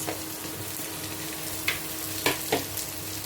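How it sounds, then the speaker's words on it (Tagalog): Carrots and potatoes go into a pan of beef stir fry with onions, and a steady frying sizzle runs throughout, broken by a few soft knocks and scrapes of stirring. "Ilagay na natin yung carrots at saka yung patatas."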